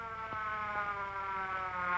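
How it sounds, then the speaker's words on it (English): An ambulance siren from a 1930s film wails in a steady, continuous tone with slowly shifting pitch, holding fairly constant in loudness over a background of faint knocks. "Ah, it's just an ambulance."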